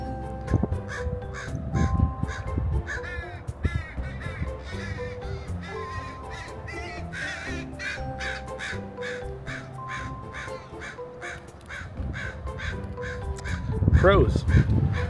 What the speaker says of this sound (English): Crows are what's here, and not much else.